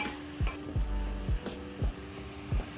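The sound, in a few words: tomatoes and sukuma wiki cooking in a pan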